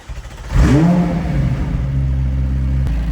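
Car engine turning over and settling into a steady idle after an oil cap check, loud and close with a brief rev at the start, then an even hum with no talk.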